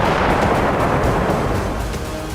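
Continuous dense rumble of shelling and explosions in Donetsk during wartime, a loud sustained roar with overlapping bursts and no clear gaps, heard alone without voices.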